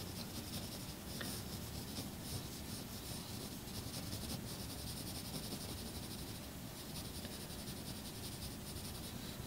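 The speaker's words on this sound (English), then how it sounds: "just draw out, sketch something out" Faber-Castell watercolor pencil sketching on paper, a soft continuous scratchy rubbing that runs steadily throughout, faint and close, with no voices.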